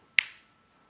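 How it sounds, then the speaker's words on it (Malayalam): A single sharp hand clap, close and crisp with a short decaying tail, is made to trigger a homemade clap switch circuit in an otherwise quiet room. "ഇനി നമുക്കൊന്ന് ക്ലാപ്പ് സൗണ്ട് കൊണ്ട് ഇത് ഓൺ ആകുന്നുണ്ടോ എന്നൊന്ന് ചെക്ക് ചെയ്ത് നോക്കാം"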